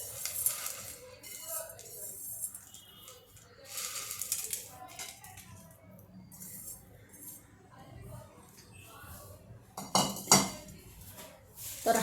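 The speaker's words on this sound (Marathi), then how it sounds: "तर तुम्ही आता बघू शकता हा माझा चिवडा तयार झालेला मी प्लेटमध्ये काढून तुम्हाला दाखवते." Chivda made with semolina sev is moved onto a plate, with irregular clinks and scrapes of dishes and utensils throughout and a louder clatter near the end, while someone talks over it.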